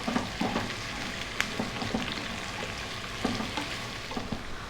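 Cut carrots frying in a pan over medium heat give off a continuous sizzle, broken by the scrape and knock of stirring at intervals. No voices are heard.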